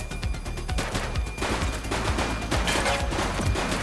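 Rapid, loud gunshots ring out in The Precinct, a police video game, firing in dense overlapping volleys for the whole stretch with no pause.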